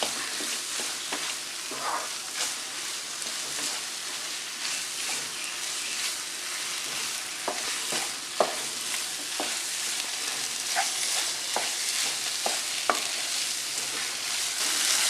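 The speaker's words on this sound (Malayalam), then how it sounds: "നന്നായിട്ട് വഴറ്റിയെടുക്കും." Chopped onions, ginger, garlic and green chillies sautéing in a pan for a Thalassery fish biryani, giving a steady, close frying sizzle with repeated sharp scrapes and knocks of a stirring spoon throughout, no voices.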